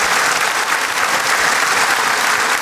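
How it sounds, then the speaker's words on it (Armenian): An audience applauds a birthday girl on stage during a women's club show, a dense, steady roar of clapping that runs loud and unbroken throughout. "Բարձր ծափարենք Սոնային"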